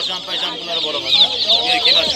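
Chickens and roosters, including white roosters, at a bird market, a dense, continuous chorus of clucking and squawking from many birds close by, with people talking faintly underneath.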